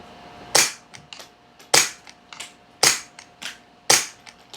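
Five sharp suppressed pistol shots from subsonic .22 ammunition fired through a Banish 9 suppressor, each a crisp snap with a brief tail, spaced roughly a second apart, close and loud with no talking.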